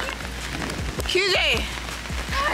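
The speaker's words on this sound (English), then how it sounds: "It's raining so hard?" Heavy rain pours down on a beach during a thunderstorm, a steady dense hiss throughout, with people talking and calling out over it.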